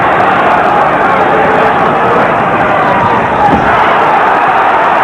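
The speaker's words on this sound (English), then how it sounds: "No contact, although the crowd reacted." Boxing arena crowd at the James "Bonecrusher" Smith vs Frank Bruno fight, a dense, steady roar of spectators reacting near the end of the second round, loud and continuous with a brief swell partway through.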